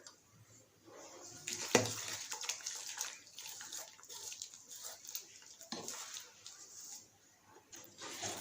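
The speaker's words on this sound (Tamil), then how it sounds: "மறுபடியும் நல்லா கலந்து விட்டுருங்க." Achu murukku batter stirred with water in a bowl, a close wet sloshing and slapping that runs unbroken with a couple of sharper knocks, alone with no talk.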